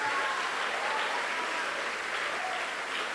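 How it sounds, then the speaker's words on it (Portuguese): A church congregation applauds during a sermon, a steady roomful of clapping hands at moderate loudness that holds evenly throughout. "pode aplaudir mesmo"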